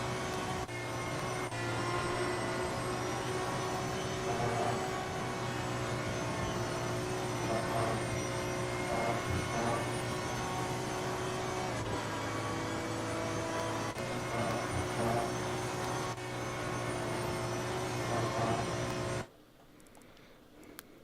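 A V12 engine on a GT3 race car in Assetto Corsa Competizione, driven at Spa, holds a loud, steady high-revving drone for most of the run before cutting out abruptly near the end.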